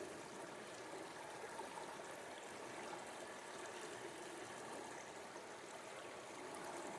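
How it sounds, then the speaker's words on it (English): Water rushes steadily through the channel of a highbanker sluice while someone is prospecting for gold, a constant broadband wash with no breaks, moderately loud and heard on its own. "Water's probably a bit too violent going through that channel"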